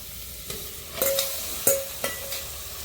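Mutton coated in coriander powder, salt and turmeric sautés in hot oil, giving a steady close sizzle broken by several clinking scrapes of a stirring spoon against the pan.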